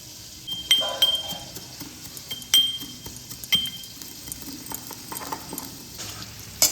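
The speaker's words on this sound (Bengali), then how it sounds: "কুমড়ো আলুটা ফ্রাই হচ্ছে" Pumpkin and potato pieces fry quietly in a pan, with a soft sizzle broken by several sharp clinks of a utensil against the pan.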